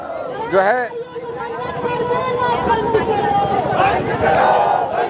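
A large CPI-ML protest march in Lucknow, moving from Charbagh toward the state assembly, fills the air with a dense, continuous crowd roar and babble, while someone speaks loudly over it close to the microphone.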